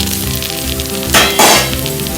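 Gunta ponganalu, a Rayalaseema snack, fry in a pan with a steady, close, crackling sizzle, with two brief louder bursts of spatter partway through.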